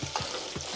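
Ridge gourd pieces being stirred in hot oil for a Gujarati turiya patra curry, giving a faint, steady frying sizzle with two soft stirring scrapes, close and quiet with no talking.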